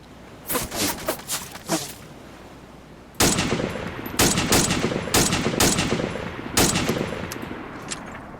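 Machine gun fire in the Arma 2 game, heard as short separated bursts at first, then longer loud sustained bursts with a few brief pauses, close and prominent, with no talking.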